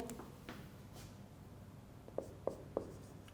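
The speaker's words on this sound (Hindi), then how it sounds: "इधर लिख भी देता हूँ" A pen or chalk taps and strokes on a board during an English lecture, with three distinct sharp marks near the end after soft scratching, heard close in a quiet room without speech.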